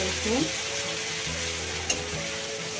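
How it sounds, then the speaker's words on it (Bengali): Garlic sizzling in hot oil in a pan while being stirred, with a steady broadband fry hiss, soft scraping stir strokes and a brief sharp clink near the end. "রসুনটা একটু নেড়ে চেড়ে দিয়ে দেবো"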